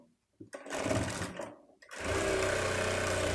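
A sewing machine stitches fabric for a baby frock, with two quick, close whirring runs of needle motor, a short one and then a longer steady one, separated by a brief pause.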